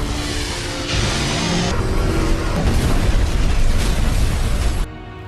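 A large explosion from a film scene, a sustained roaring blast with crackling bursts and deep rumble that swells in stages before cutting off abruptly.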